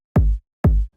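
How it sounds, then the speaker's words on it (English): Two punchy electronic kick drum hits for a tech house track, each a deep booming thump with a sharp attack and a short low tail, evenly spaced and alone. "So we have our kick sample here"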